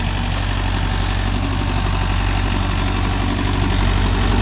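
A Mahindra Yuvo Tech Plus 585 4x4 tractor, pulling a five-tine cultivator through a rice field, runs its engine in a loud, steady, close-up drone with a deep throbbing hum that continues unbroken throughout.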